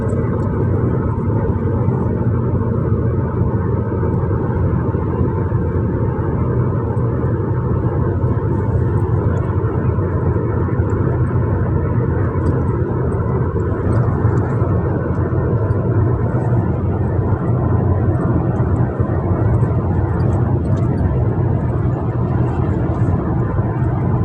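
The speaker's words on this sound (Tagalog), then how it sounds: "Paglapag ng aeroplano" An airplane landing on a flight back to Dubai, UAE, heard as a loud, steady, continuous engine and cabin roar with deep rumble throughout, no voices.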